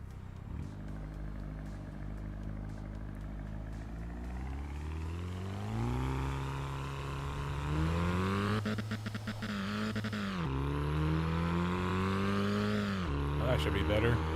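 A racing car's engine in Assetto Corsa Evo climbs and settles through rising revs and gear changes, a steady close drone that swells louder toward the end, with someone talking over it.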